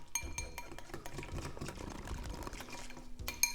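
Matcha powder being mixed with a small whisk for a vegan matcha tiramisu, quiet rapid stirring and light clinking against a bowl, faint and continuous with no talking.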